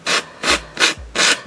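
Four rhythmic rasping strokes of sandpaper against wooden popsicle sticks, close and loud, evenly spaced back-and-forth scrubbing.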